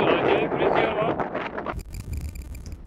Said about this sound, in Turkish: Öyle rüzgar var ki makineyi elimde tutamıyorum.